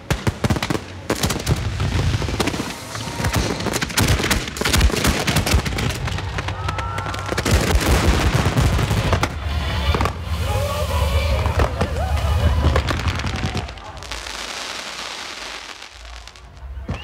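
Fireworks launched from an electronic firing system go off as a dense, loud volley of cracks, pops and booming bursts, coming in rapid clusters for most of the stretch before thinning out near the end.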